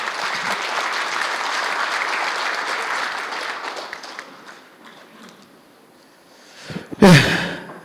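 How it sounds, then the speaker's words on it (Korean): An audience at a Rotary district meeting applauds steadily for several seconds, then the clapping fades away, followed by a brief close rustle or bump near the end. "박수 한번 좀 부탁드리겠습니다."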